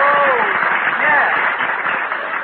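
A studio audience applauds on a 1949 radio show, a steady, thin-sounding wash of clapping that runs throughout while voices talk over it.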